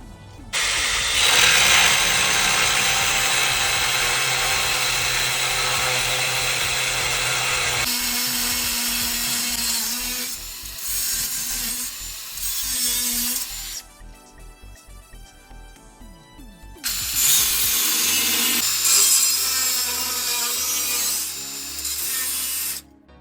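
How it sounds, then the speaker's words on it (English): A power tool cuts through the steel leaf-spring shackle hanger on a Toyota Tacoma, a loud, harsh, sustained grinding that runs for several seconds, drops away, then returns in a second long burst. "so we're gonna go ahead and chop it off here"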